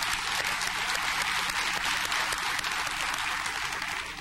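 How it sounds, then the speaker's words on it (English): Audience gives a round of applause at a real estate talk, dense steady clapping filling the room at moderate volume, fading slightly at the end. "Let's give her a big round of applause."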